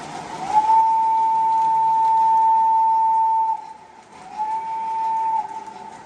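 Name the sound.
model train whistle toot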